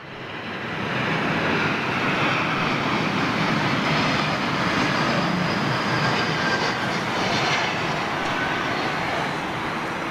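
A jet airliner roars with engine thrust on a wet runway at London Heathrow, a steady, broad rushing rumble heard from a distance that swells in and holds at a constant level.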